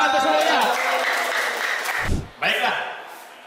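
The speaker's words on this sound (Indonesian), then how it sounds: "tepuk tangan untuk semuanya" Classroom applause from students, a dense, loud burst of clapping mixed with children's voices that briefly dips, then resumes before trailing off.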